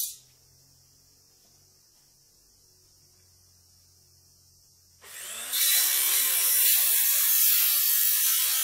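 A long wooden post for an outdoor shop sign stand is cut to 1.1 m. After several seconds of near silence, a loud, steady, hissing saw noise starts abruptly and continues to the end.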